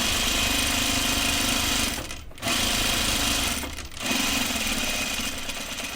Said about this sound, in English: I'm just gonna top stitch a little further away from the edge than I usually do